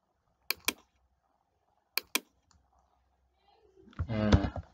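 A computer mouse clicks during an online Quran writing lesson: two quick double clicks, close and crisp, separated by a pause, followed by a brief voiced sound at the end.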